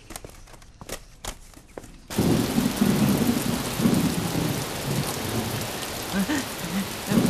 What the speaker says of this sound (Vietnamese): Sắp mưa rồi, thu mau đi.